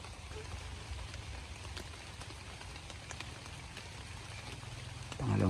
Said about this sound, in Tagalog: Nabutan ako ng ulan.